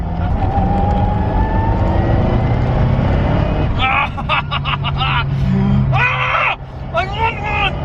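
A Lancia Delta Integrale Evo 2 rally car driven hard on a road, the engine droning loudly under several excited voices; midway the engine note drops back, then rises in short revving bursts toward the end.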